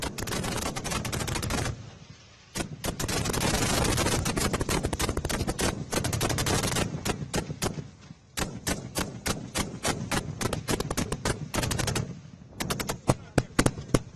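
An Arjun tank at the Pokhran range fires in a rapid attack, loud bursts of sharp repeated shots in clusters with brief pauses between them, close and harsh.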